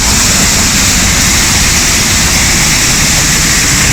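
A waterfall in a German forest pours down in a loud, steady broadband roar, close and unbroken, with no voices over it.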